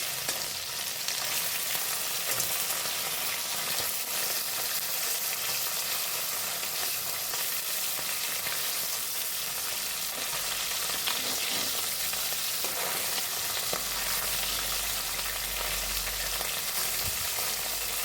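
Parshe fish pieces fry in hot oil in a kadai, giving a steady, dense sizzle that runs unbroken for the whole stretch, with no talk over it.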